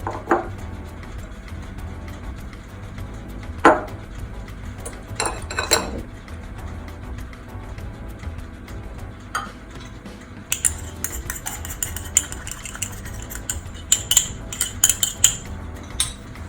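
Foamy sponge cake batter with cream of tartar is mixed in a bowl, giving steady scraping and clinking of utensil against the bowl, with sharper metallic taps and knocks clustering toward the end.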